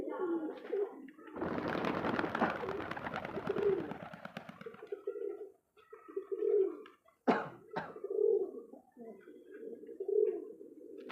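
Pigeons coo repeatedly in low, throaty bursts, close by, with a stretch of rustling, flapping noise early on and a sharp click later, during a pigeon-flying competition in Uttam Nagar, Delhi.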